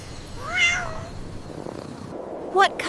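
A cat meows clearly, a rising-falling mew followed by a shorter, sharper meow near the end, close and fairly loud over a quiet background.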